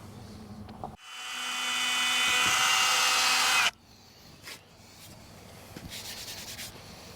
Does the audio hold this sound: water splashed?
no